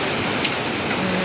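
Heavy monsoon rain of the Karkidakam month pours down in a dense, steady, close hiss of drops drumming on surfaces, with no voices.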